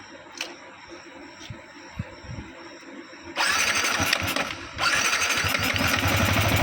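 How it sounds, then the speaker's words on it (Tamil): Vehicle engine cranked with the self-starter during a radiator fan fault check: quiet clicks and rattles, then the starter engages and the engine catches and settles into a loud, steady idle close by. "இப்போ நம்ம வந்து செல்ஃப் போட்டு செக் பண்ணி பார்க்க போகிறோம்."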